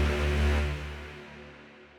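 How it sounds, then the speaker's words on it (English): An epic cinematic brass layer swells into a loud, sustained low chord that slowly fades away, heard alone with no voices. "I am introducing this brass,"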